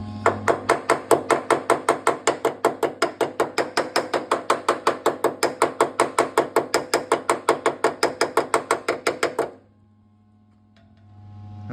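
A pink-handled hammer strikes repeatedly on a transporter van's passenger step, rapid evenly spaced metallic blows, about four or five per second, close and sharp for nine seconds before stopping abruptly into near silence.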